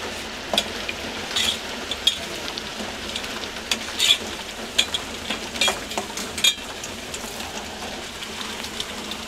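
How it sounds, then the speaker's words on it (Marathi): Masala spices roast in a pan for chhole, with a continuous soft sizzle and repeated scraping, clattering stirring strokes, fairly close and unaccompanied by speech. "हे बघा माझा मसाला चांगला भाजून झालाय"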